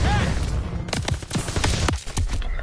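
Burst of gunfire with sharp, repeated shots and a heavy blast in a Call of Duty WWII battle, loud and close, several cracks spaced irregularly over a constant rumbling background.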